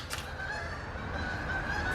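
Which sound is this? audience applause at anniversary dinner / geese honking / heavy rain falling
geese honking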